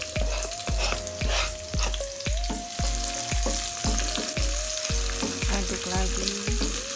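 Sliced chillies frying in oil in a pan for tempeh martabak, a steady close sizzle with regular knocking thumps of a utensil stirring against the pan, no talk.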